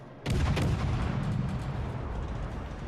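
Warship guns in a naval video game, with the T1 Albany in play, open blind fire: a heavy booming blast followed by a loud, rolling rumble of continued gunfire that slowly fades.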